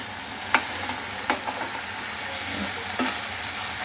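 Tomatoes for a ginger-tomato chutney sizzling in a pan as they soften, with a steady low fry and a few sharp spatula scrapes and taps, close by and without any talking.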